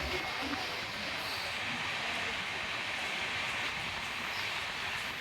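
A passenger train runs through the tunnels of the hilly Lonavla to Mumbai rail line, a dense, continuous roar of wheels and rushing air that stays even and loud throughout.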